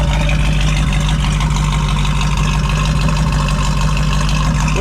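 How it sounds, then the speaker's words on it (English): A deep, steady V8 idle from a 1968½ Ford Mustang GT 428 Cobra Jet rumbles continuously at close range, with a low throbbing hum and no other sounds. "Listen to that idle."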